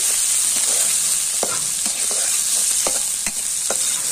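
Chana dal with bay leaves and salt being stirred in a hot pan, a steady loud sizzle of frying with scattered scraping strokes of the spoon, no voices.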